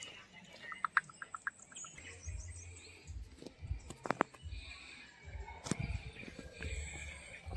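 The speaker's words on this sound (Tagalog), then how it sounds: "Daming ibon." Many birds chirp and call at a tropical nature park, bright repeated tweets scattered across the clip over a low outdoor rumble, with some footsteps and brief handling noises.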